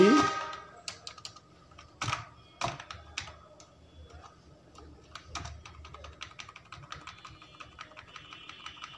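Fingers type a date into an MS Word document on a computer keyboard, a close, uneven run of sharp key clicks with a few louder strikes and short pauses between bursts.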